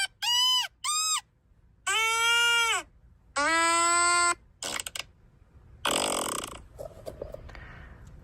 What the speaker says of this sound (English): That trumpet sounds like a fart.